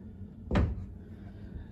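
A single drawer in a casino resort hotel room is pushed open or shut, one short close thump against a quiet room background.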